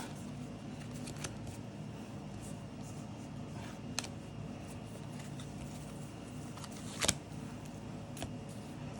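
Trading cards for a My Hero Academia card game are sorted by hand, with soft continuous shuffling and flicking of cards, quiet and close, plus an occasional sharper tap.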